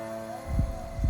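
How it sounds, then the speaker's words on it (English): Two slow, deep heartbeat thumps pulse over a steady low hum, close and muffled, with no other sound. "I hear a heartbeat."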